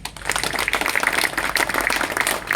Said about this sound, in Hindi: ताली कहां है?